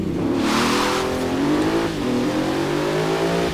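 Continental Supersport 2017 in Forza Horizon 3 accelerating hard from a standstill, a loud steady engine roar climbing in pitch through gear changes, with a brief dip near the middle.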